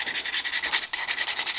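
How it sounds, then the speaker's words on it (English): Close, steady rhythmic rubbing strokes of hand sanding on a small igniter plate for a 1937 Ford flathead engine, about ten even back-and-forth passes with a brief pause midway, alone without talk. "I'm just carefully sanding it so it drops right in there"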